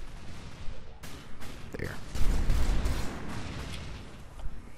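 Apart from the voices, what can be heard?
gunfire from the video game Loadout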